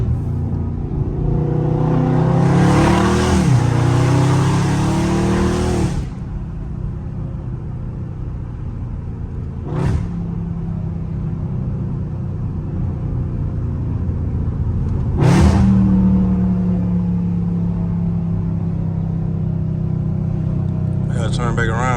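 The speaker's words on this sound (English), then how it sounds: "y'all can always get this lovely sound of the car" Dodge Scat Pack engine revving while driving: one long, swelling rev in the first few seconds, then two short sharp throttle blips over a steady low exhaust rumble, loud and close.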